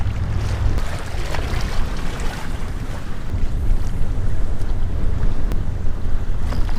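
Strong wind roars steadily across the microphone during stormy saltwater wade fishing by pilings, a constant loud rushing with gusts and no speech.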